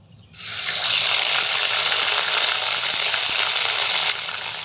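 Ginger garlic paste dropped into hot oil with bay leaves, bursting into a loud, steady close sizzle that stays strong throughout and eases slightly near the end.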